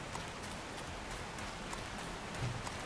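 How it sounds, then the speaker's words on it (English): Steady rain pours down in the zombie survival game 7 Days to Die, a constant soft hiss of drops with no break, fairly faint and heard on its own. "The rain is getting out of control."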